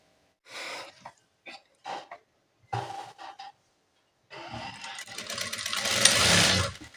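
Sewing machine stitching nurse uniform pants, starting after several short bursts of quiet handling noise and then running as a steady close whir that builds in loudness.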